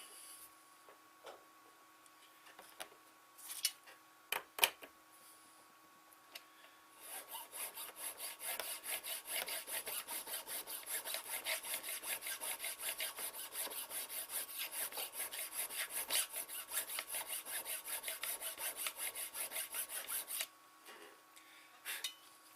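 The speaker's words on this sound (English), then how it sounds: "Okay, let's do some more filing." Hand file rasping on metal while fitting a knife guard: a few scattered scrapes and taps, then a long, steady run of quick rhythmic back-and-forth filing strokes, close and fairly quiet, ending with a few more light touches.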